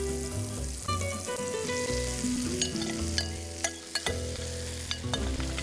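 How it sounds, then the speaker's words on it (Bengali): Potatoes fry in butter in a pan with a steady, close sizzle, broken by scattered crackles and occasional stirring scrapes. "আমরা আলুটা ছেড়ে দিই এর মধ্যে"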